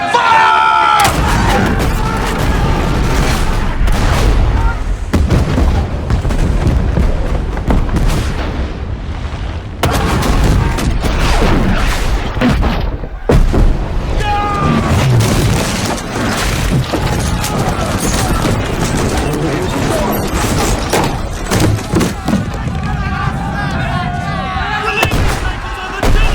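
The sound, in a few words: cannon fire aboard a warship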